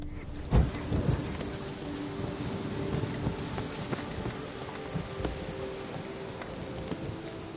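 Roach the horse gallops in The Witcher 3 video game, a steady rhythm of hoofbeats running throughout, with a sharper thump early on, under a low, continuous bed of ambient game sound.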